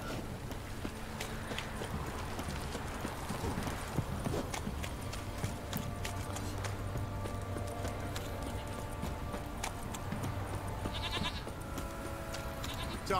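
Steady clip-clop of horse hooves in The Witcher 3: Wild Hunt, over a busy game soundscape, with animal bleats and ambient noise mixed in, moderately loud throughout.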